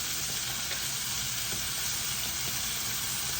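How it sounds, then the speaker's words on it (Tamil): Tomato and ground garlic saute in hot oil in a pan, giving a close, continuous, even sizzle with a faint crackle, heard alone with no voices. "இதுவும் சேர்ந்து இருக்கிற எண்ணெயில் வதங்கி கொள்ளட்டும்"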